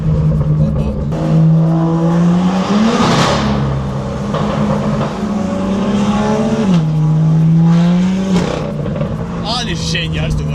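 A 188-horsepower car driving and accelerating through a small tunnel, the engine note climbing through gear changes and revving loudly close by, with voices talking over it.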